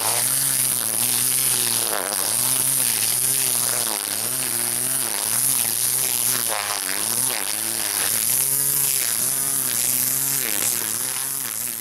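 A Ryobi 40-volt single string trimmer runs steadily and loudly throughout, a constant buzzing motor whine with a slightly wavering pitch and no talking.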